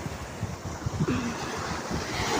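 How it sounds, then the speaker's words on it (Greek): Sea waves wash at the shore at sunset, a continuous close rushing surf with gusty wind noise on the microphone, steady in level, no talk. "και τώρα σας δείχνω τη θάλασσα"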